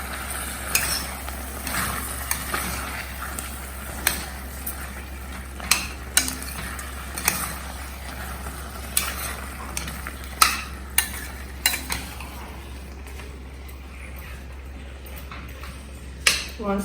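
Paneer pulao ingredients sizzle steadily as they are sautéed in a pan, with occasional clinks and scrapes of a utensil stirring, the frying hiss continuing throughout at close range.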